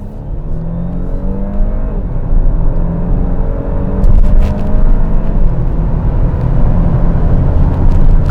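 An Audi A7 55 TFSI quattro accelerates hard from inside the cabin, its engine note climbing steadily in pitch through the rev range, loud and continuous, with rising tire and wind rush and no talk.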